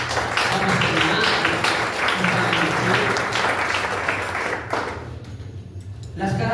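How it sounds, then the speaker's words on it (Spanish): A church congregation applauds during a Spanish-language service, dense clapping for several seconds with voices mixed in, then tapering to sparse claps and murmuring. "Den un aplauso a Dios."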